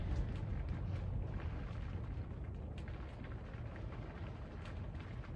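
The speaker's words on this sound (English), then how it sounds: "there's rain on the top of the yurt here" Rain patters on the roof of a yurt, a steady, broadband hiss with occasional louder drips heard from inside, continuous and unaccompanied by speech.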